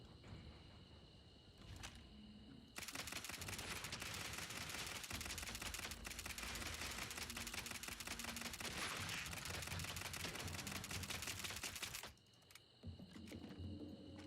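Sustained rapid gunfire from a video game shootout, a dense, loud burst of shots running for about nine seconds before cutting off, with quieter game sounds before and after.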